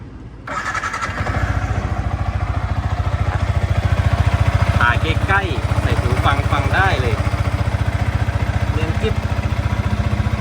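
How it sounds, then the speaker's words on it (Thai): A 2018 Yamaha YZF-R15 motorcycle engine starts up after a brief silence and settles into a loud, close, steady idle with a fast, even pulse. A voice is briefly heard over the running engine partway through. "สตาร์ทฟังเสียงเครื่องยนต์กันนะ"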